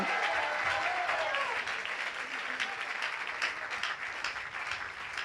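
A church congregation at an Easter gathering applauds for a pastor, a sustained, even wash of clapping from many hands in a large room, moderately distant, with faint voices mixed in.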